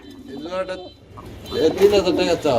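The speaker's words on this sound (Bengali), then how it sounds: "গবেষণা চলতেছে জ্যাকোবিন কবুতর বন্ধুরা হুটগুলা দেখতে পাচ্ছেন" Jacobin pigeons cooing in a coop, low soft throaty coos close by, mixed with a person talking.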